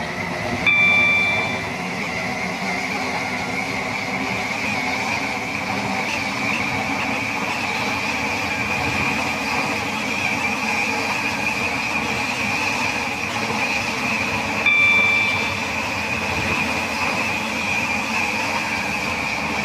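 Train running in the Roblox game Stepford County Railway, with a continuous rolling rumble and a steady high whine under it, and two brief chime tones near the start and again around the middle.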